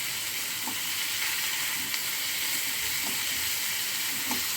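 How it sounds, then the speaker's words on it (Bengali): Pointed gourd and prawns stirred dry in a pan, a steady close sizzle and hiss of frying with occasional soft scrapes of the stirring utensil, no talk. "সব নিয়ে এবারে এটাকে শুকনো শুকনো নাড়াচাড়া করতে হবে, একটু জল এতে যাবে না"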